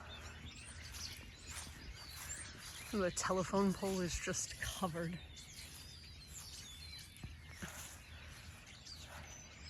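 Many small birds chirp and tweet constantly in the background while someone talks briefly nearby, the twittering dense and continuous.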